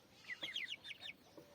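Young chickens in a backyard coop chirp and cluck in a quick burst of high calls, then settle into a few softer peeps, heard close by but at low volume.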